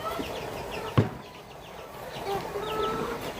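A flock of home-farm chickens clucks and murmurs continuously ahead of feeding, with a sharp knock or squawk early on and a few clearer calls later, close and moderately loud, with no talking.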